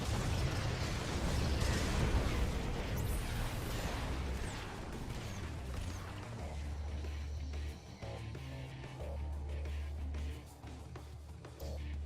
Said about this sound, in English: Vikings will fire.